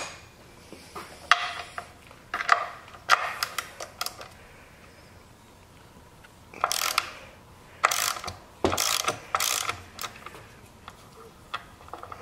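Bursts of rapid clicking from a socket ratchet wrench removing spark plugs, close and moderately loud, coming in short separate runs with pauses between them.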